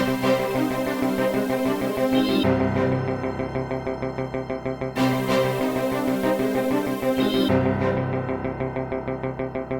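A bright, punchy synthesized funk horn stab from Trident plays a funky melodic line over a dense groove, loud and upfront, in two repeating phrases.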